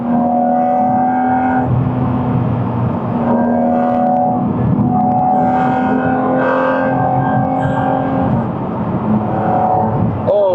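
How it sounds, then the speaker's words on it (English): A Porsche 718 Cayman GT4 RS engine sings continuously through its rev range from inside the car on an undulating road, a loud sustained tone rising and settling without a break. "I'm now able to use more of the rev range. Oh, look at that, hear that."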